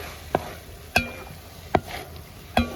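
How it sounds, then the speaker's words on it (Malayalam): Fried bitter gourd being mixed into a hot homemade pickle masala in a pan: four distinct spoon scrapes and knocks at a loose rhythm over a faint background sizzle, no voices. "നല്ലപോലെ ഒന്ന് മിക്സ് ചെയ്ത് കൊടുക്കുക."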